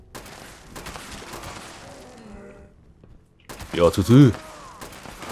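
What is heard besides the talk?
gunshots in the video game Fallout 76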